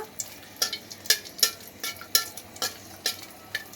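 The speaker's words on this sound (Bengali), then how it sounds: "একদম শুকনো মরিচটাকে ভালো করে ভেজে নিতে হবে।" Dried red chillies frying in a pan, a quick series of crackling pops and scrapes over a soft, steady sizzle, close and fairly quiet.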